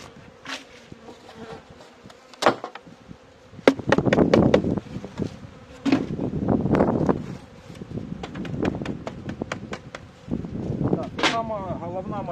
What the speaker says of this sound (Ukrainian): Вставляємо решту бджоли, витрушуємо.